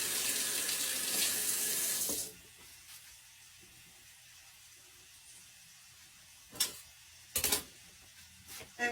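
Tap water runs steadily from a faucet into a sink during handwashing in a home kitchen, a loud broad hiss that stops abruptly after about two seconds, leaving quiet room tone broken by a few sharp clicks and knocks.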